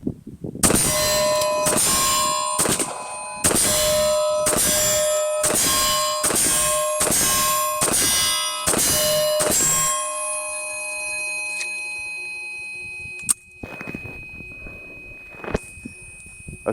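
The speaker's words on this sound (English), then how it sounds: "I'm sure you heard the pings." Rifle bullets striking steel targets at 50 yards ring out in a rapid series of loud metallic pings, each with a long bright ringing tail, about a dozen in quick succession, followed by a couple of isolated clangs after a pause.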